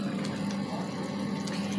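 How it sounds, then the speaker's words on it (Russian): Pot of pilaf (plov) bubbling on a stovetop after strong heat, a steady, close simmering burble with a faint hum underneath and no talking. "У меня сейчас булькает, потому что до этого был сильный огонь"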